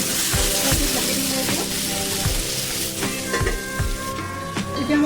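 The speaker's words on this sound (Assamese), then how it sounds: "মাংসখিনি মই এতিয়া ভালদৰে ফ্ৰাই কৰি দিম" Local chicken meat fries in a hot pan with a steady sizzle, broken by repeated stirring clatters and low knocks from the cookware, heard close up.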